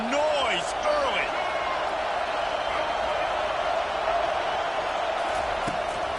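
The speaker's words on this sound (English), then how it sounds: "This crowd bringing the energy and noise early." Dense, loud stadium crowd roar at a college football game, a steady wall of cheering noise with a few whistles, sustained throughout at high level.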